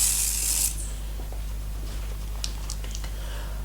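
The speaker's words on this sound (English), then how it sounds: "spray it with my hydrating mineral water mist" A single short burst from a mineral water mist spray bottle, close and crisp, followed by quiet light handling clicks.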